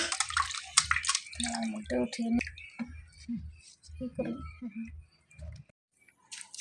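Freshly cut pumpkin flowers are washed by hand in water, with repeated sloshing, splashing and dripping up close while someone talks over much of it.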